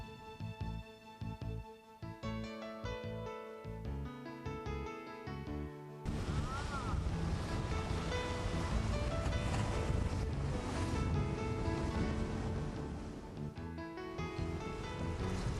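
A MacGregor 26M sailboat moves fast under mainsail alone, with a steady wash of water and wind rushing past the hull, a loud continuous roar of waves and wake that swells slightly midway, with no talking.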